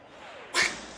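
A single short, sharp sneeze bursts out close by just past the halfway point, standing out above a quiet background.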